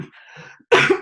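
A single sharp cough bursts out loudly after a few moments of soft, muffled background murmur, followed by a short second breath or catch at the very end.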